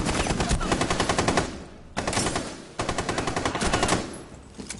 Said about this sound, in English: That's a pre-fire through the smoke.